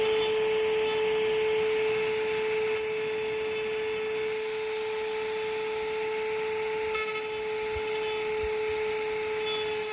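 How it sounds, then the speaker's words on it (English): A Dremel rotary tool grinds steadily through an S2000 instrument cluster cover, a constant high-pitched whine held for the whole stretch with a few small catches as the bit bites into the plastic. "you need to Dremel it out."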